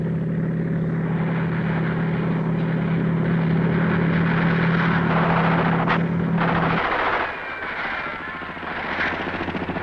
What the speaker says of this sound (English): Choppers have brought a new mobility to the battlefield.